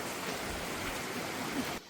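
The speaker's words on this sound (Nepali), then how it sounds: "यहाँ तलपट्टि खोला" A river rushes over a bed of stones somewhere below a hill road in Nepal. It makes a steady broadband roar of flowing water throughout, heard alone without voices.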